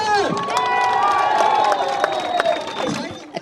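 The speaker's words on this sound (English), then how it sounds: "A crowd cheers at an Alternative für Deutschland rally in the town of Querfurt." A crowd cheers and whoops at an Alternative für Deutschland political rally in the town of Querfurt, Saxony-Anhalt, with sustained loud outdoor cheering and scattered shouts.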